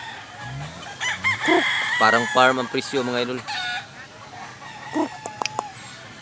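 A Black Macrae gamefowl rooster crows up close, with a series of crowing and clucking calls over a few seconds while someone speaks briefly alongside.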